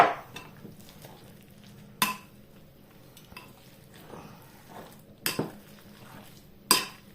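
A utensil stirs parsley, garlic and olive oil in a bowl, giving soft scraping swishes punctuated by several sharp clinks of metal against the dish at irregular intervals.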